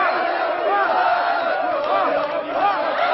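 A huge crowd on the Champs-Élysées in Paris roars and chants in unison, a dense, continuous wall of voices heard at a distance with rising and falling waves.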